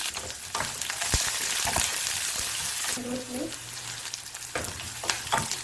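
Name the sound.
sautéing onions with mustard, urad dal and cumin for pachadi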